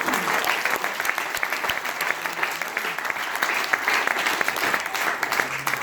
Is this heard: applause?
yes